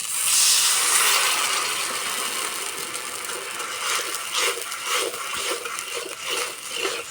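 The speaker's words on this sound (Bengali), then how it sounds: "আর দেবো হাফ বাটি জল।" Water being poured into a pan holding sugar to make syrup gives a steady hiss and splash, loudest at the start and settling into a softer bubbling sizzle.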